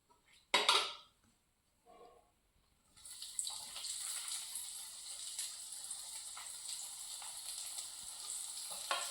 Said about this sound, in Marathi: सगळ्या वड्या आता कापून घ्यायचे आणि तळून घ्यायचे अशा.